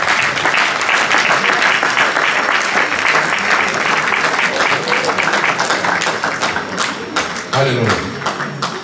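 A church congregation applauds in loud, sustained, dense clapping with crowd noise, and a voice carries over the top near the end.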